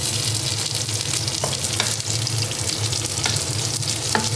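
Eggplant pieces fry in a pan of hot oil at home, a continuous crackling sizzle with scattered sharper pops and stirring clicks, close and with no one speaking.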